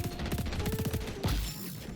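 Close, rapid bursts of automatic gunfire in the XDefiant shooter game crack out in quick succession, then give way to a heavier crash and a quieter tail.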